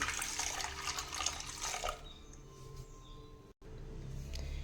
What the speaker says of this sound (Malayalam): ഇതിലേക്ക് കുറച്ച് വെള്ളം ഒഴിച്ചു കൊടുക്കാം.